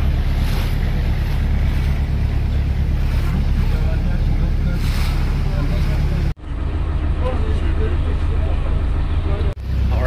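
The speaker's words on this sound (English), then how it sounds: "we're in a little taxi boat heading over to Turtle Beach" A small taxi boat's motor drones steadily over rushing water and wind buffeting the microphone, loud and close, with two brief dropouts near the end, on the way to Turtle Beach near Dalyan, Turkey.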